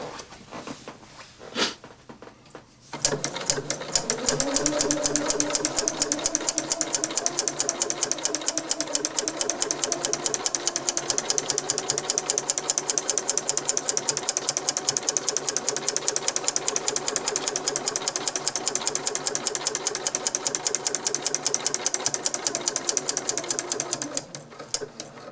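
A Janome 8077 sewing machine stitching with a Daisy Foot attachment runs at a fast, steady mechanical rattle for about twenty seconds after a few soft handling knocks, close and loud, then stops.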